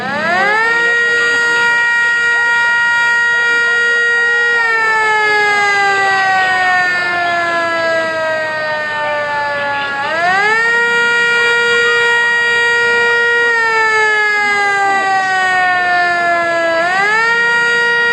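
A Samsung Model L siren winds up and holds a loud, steady multi-tone wail, then repeatedly drops and climbs back up in pitch, sounding close and alone with no talking.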